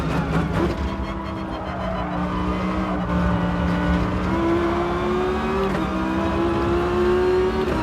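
A Gran Turismo race car brakes hard and downshifts, its engine note dropping and blipping through gears before climbing again, loud and continuous with no talk.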